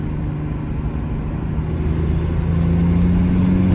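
A car pulls hard in a quick burst, the engine droning low, then its note climbing and growing louder partway through, heard steadily from inside.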